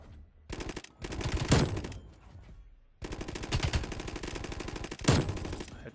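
Galil assault rifle gunfire in the video game Black Ops Cold War: loud, close bursts of rapid automatic fire separated by brief pauses, with no talking.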